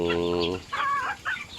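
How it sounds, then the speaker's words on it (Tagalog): Chickens and young stags in a farm pen give a short, close cluck, then a few quieter calls trail off. "Medyo madami-dami na yung mga manok natin dito"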